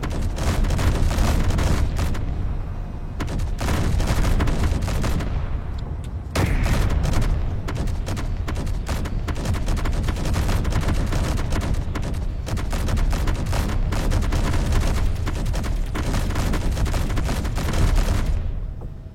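Video game turrets open fire in a long, dense barrage of loud gunfire and booming impacts that rattle on almost without pause, with one brief lull partway through.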